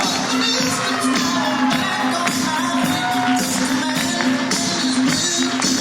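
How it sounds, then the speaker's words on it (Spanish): An improv comedy audience at a show in Carballiño applauds a female performer, with loud, sustained clapping and cheers and scattered shouts from the crowd that hold steady throughout. "Forte aplauso para ela"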